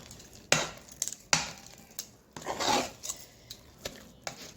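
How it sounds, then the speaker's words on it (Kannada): A ladle knocks and scrapes against a pot in irregular strokes while thick rice papad dough is mixed until smooth. "ಆ ಥರ ಮಿಕ್ಸ್ ಮಾಡಬೇಕಾಗತ್ತೆ ನೋಡಿ ಹೀಗೆ ಸೌಟಿಂದ ಚೆನ್ನಾಗಿ ಬೆಣ್ಣೆ ಥರ ಆಗಬೇಕು"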